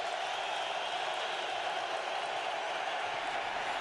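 A large stadium crowd at a Patriots football game roars in a dense, continuous wash of cheering and applause, steady and loud throughout.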